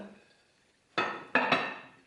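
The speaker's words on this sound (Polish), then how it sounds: "Naczynie żaroodporne przykrywamy." A quiet moment, then three sharp clinking knocks of a lid set onto an ovenproof baking dish, ringing briefly.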